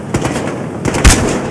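Rapid gunfire in the Battlefield Hardline video game ends in a headshot, with loud, close bursts of several shots and a heavier low-thumping report near the end.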